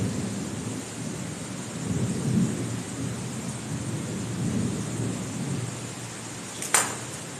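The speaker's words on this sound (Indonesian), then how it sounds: "Apa kita boleh buat begini hujan nih kawan?" Steady rain pours around an old bungalow during a nighttime exploration while a low thunder rumble rolls underneath, and a sharp, loud crack of thunder bursts out near the end.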